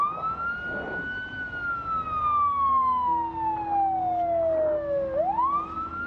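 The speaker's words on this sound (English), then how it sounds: "They just hear the siren and they're coming to get the siren." A wailing vehicle siren in Project Zomboid sweeps slowly downward, then snaps back up in a single long cycle, loud and prominent over a faint low background with no speech.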